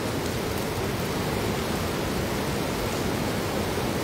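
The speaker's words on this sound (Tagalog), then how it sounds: "Ulan na naman, King." Steady heavy rain pours down during net fishing outdoors, a dense, continuous hiss with no breaks and no voices.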